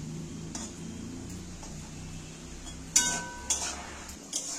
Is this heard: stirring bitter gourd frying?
yes